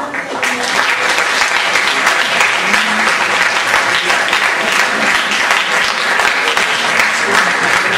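An audience at a French lycée conference applauds the speakers in steady, dense clapping that fills the room loudly and evenly throughout.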